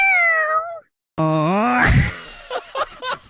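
A voice imitating a cat, two drawn-out wailing meows separated by a brief pause, loud and close, followed by a few short voiced sounds.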